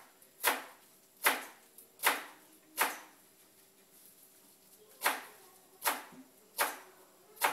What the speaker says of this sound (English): now, you just cut it really thin with a very sharp knife